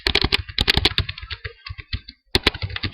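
Quick clattering keystrokes on a computer keyboard, close and crisp, coming in irregular runs with a brief pause before the typing resumes; no voices.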